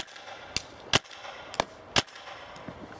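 Tippmann A5 paintball marker with a 16-inch barrel firing outdoors: five sharp pops in an uneven sequence, a couple noticeably louder, each separated by short pauses against a quiet background.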